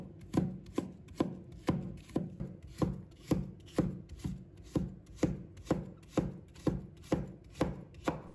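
A knife chops enoki mushrooms into thin shreds on a board, making about fifteen steady, evenly spaced cuts that land close and clear.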